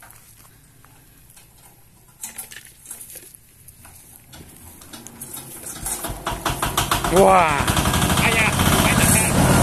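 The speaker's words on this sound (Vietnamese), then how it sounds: "À, nổ máy luôn hả?" An old Yanmar engine on a small utility cart starts and settles into a loud, fast, rattling run that builds and grows steadier, close by, with someone speaking briefly over it.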